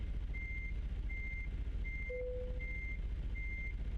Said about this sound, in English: I'm trying to park the truck.